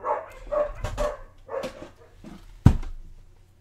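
A dog barks in several short, loud bursts close by, with a sharp, strong yip near the end before fading.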